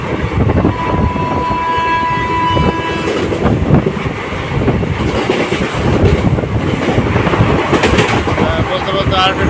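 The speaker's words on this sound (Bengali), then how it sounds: "বলতে বলতে আরেকটা ট্রেন চলে এসছে, ট্রেনটি পাস করছে, আমাদের ট্রেনটি পাস করে চলে যাচ্ছে ডাবল ট্র্যাকে।" A train passes on the adjacent track of a double line between Malda and Murshidabad in India, heard from aboard a moving train as a loud, continuous rumble with rattling wheels and a brief high tone.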